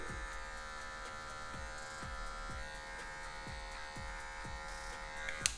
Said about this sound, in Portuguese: eu vou jogar na zero alto, ó. E vou tirar esse cabelo aqui